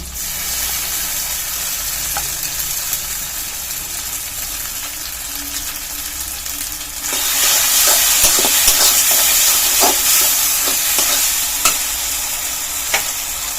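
Cumin paste and chili paste fry and get stirred in a pan for an egg bora curry, a steady sizzle that grows louder and brighter about halfway through, with scraping stir strokes on top.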